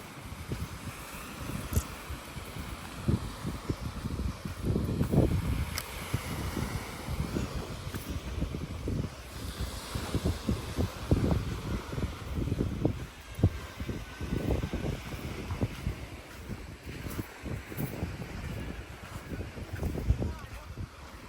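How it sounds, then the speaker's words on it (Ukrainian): Steady wind buffets the microphone near the sea, with low rumbling gusts and a faint watery wash throughout. "Сьогодні, напевно, більше вітряно,"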